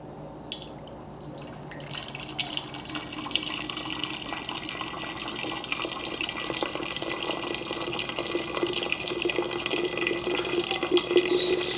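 Hot water pours steadily from a Tiger electric water boiler into a vessel, a continuous close splashing stream that grows slightly fuller as it fills, preceded by a soft button click.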